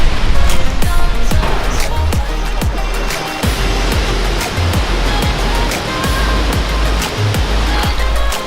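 Rushing water roars steadily at Mooney Falls in Havasupai, Arizona, a loud, close, unbroken wash of falling spray with occasional deeper surges and no talk.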